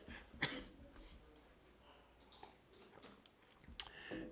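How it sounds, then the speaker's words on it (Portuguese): A person speaking in a Portuguese talk on family and drug use gives two short, sharp coughs, one early and one near the end, fairly close but quiet against a hushed room. "estou com um pouquinho de tosse"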